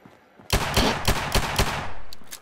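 A pistol fires in a video game, a close, loud burst of about five rapid gunshots with echoing tails and a faint click afterward.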